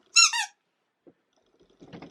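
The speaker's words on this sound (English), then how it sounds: "And a squeaky bone." Squeaky dog toy bone giving two quick, loud squeaks, followed by faint soft rustles and thumps.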